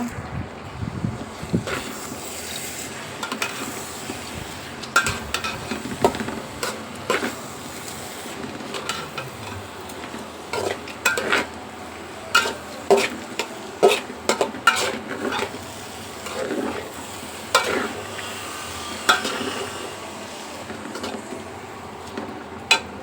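Metal utensil scraping and clinking against a pot while frying and stirring lentils for khichuri, irregular stirring knocks with a faint sizzle in a quiet background.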